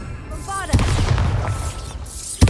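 Bombarda spell explosions in the video game Hogwarts Legacy, two deep booming blasts, one early and one near the end, over magical shimmering effects.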